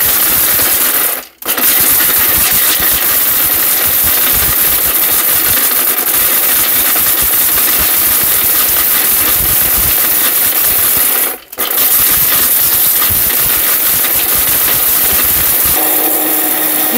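A powerful household blender grinding whole turmeric into powder roars loudly and continuously at close range, its dense rattling grind broken by two brief pauses before resuming.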